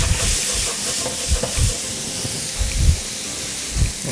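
Pre-cut onions fry in a pan for a Congolese dish, giving a steady close sizzle and hiss with several brief low thumps and scrapes of stirring.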